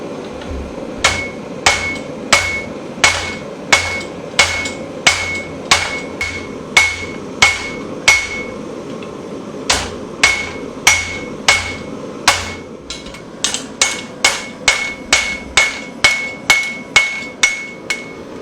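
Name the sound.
hammering steel into bar stock while forging a hunting knife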